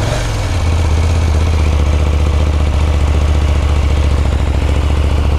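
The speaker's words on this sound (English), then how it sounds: "for a stock bike, stock exhaust, this is pretty loud" A KTM 890R motorcycle with stock exhaust idles loudly and close by, a steady deep throbbing rumble with a fast, even pulse.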